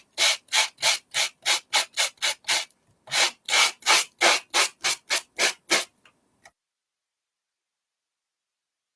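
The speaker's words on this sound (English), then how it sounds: "It's a sanding block. It's pretty rough." A rough sanding block rasps back and forth over embossed card in two runs of quick, even strokes, loud and close, then falls silent.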